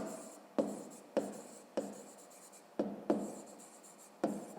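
A pen writes on paper during a math exercise, giving close scratchy strokes broken by repeated tapping and lifting, about eight distinct stroke bursts with no one talking.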